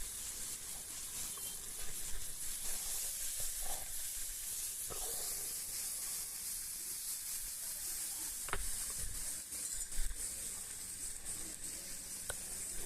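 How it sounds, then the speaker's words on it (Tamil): Potatoes frying in oil in a pan, a steady sizzle and hiss that runs the whole time at moderate level, with occasional clinks and stirring knocks and no talk. "எண்ணெயை ஊற்றி இந்த பொட்டேட்டோக்கு என்ன உப்பு தேவையோ அந்த அளவு உப்பு நம்ம ஒரு கணிச்சு போட்டுட்டு நல்லா ஃப்ரை பண்ணிக்கலாங்க"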